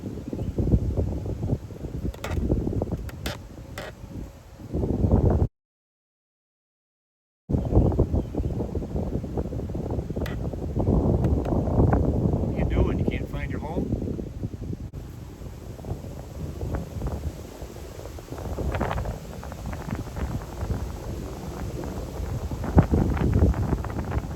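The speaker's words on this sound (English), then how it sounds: "I'm not sure how much breeze you're getting in that microphone" Wind buffets a microphone outdoors beside a mason bee house, a steady low rumbling roar with gusty surges, broken by a brief total dropout around five seconds in, then continuing unevenly.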